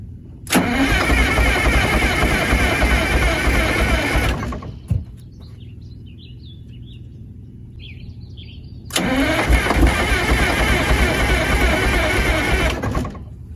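A vehicle engine with weak starter batteries starts up in cold weather, running loud and steady for about four seconds, then cutting to near-quiet before a second long, loud run.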